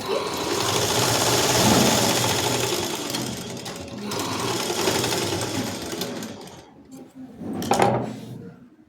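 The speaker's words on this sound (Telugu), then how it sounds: "డబల్ కుట్టు అనేది ఇట్లా వేసుకోవాలంటే" A sewing machine running a double stitch on a dress makes a close, loud whirring rattle that slows and fades near the end, followed by a couple of short clunks as the fabric is handled.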